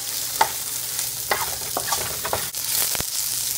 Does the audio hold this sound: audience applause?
no